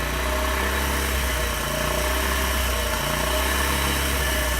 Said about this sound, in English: we'll start the engine and we'll do that all over again